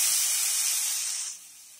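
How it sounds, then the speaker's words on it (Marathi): Bombay duck fish frying in hot oil: a bright, steady hiss of sizzling close up that fades to a softer level in the last half second, with no talk. "तेलामध्ये फ्राय करतो आहोत"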